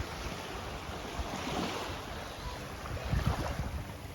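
Surf washes onto Klong Muang Beach in Krabi, Thailand, a steady broadband wash with wind buffeting the microphone and a slightly louder wave swell near the end.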